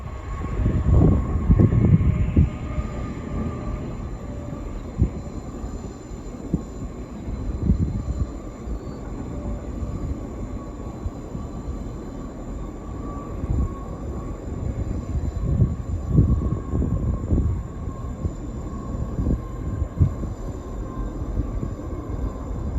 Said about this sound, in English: I guess we didn't have to leave the hotel to see a train because there's one right across the highway from us